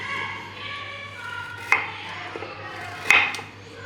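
Carrots being chopped with a large kitchen knife during Christmas dinner cooking: a few crisp, close chops striking the cutting board at an uneven pace over a low steady background hum.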